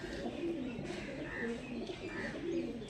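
Pigeons cooing softly and repeatedly in a home loft, several low rolling coos spaced across a couple of seconds, close but quiet, with no talking.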